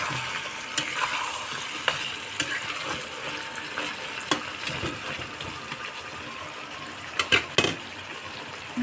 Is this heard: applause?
no